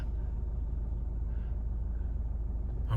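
A Mazda 6 engine idles steadily nearby, a constant low rumble with no change in pace for the whole stretch.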